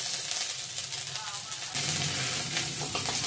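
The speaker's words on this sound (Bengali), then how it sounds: "ভালো করে ভাজা ভাজা হয়েছে ফোড়নটা" Whole cumin seeds and crushed ginger fry in hot oil in a pan as a tempering for a paneer dish, a close continuous sizzle with crackling that grows denser midway.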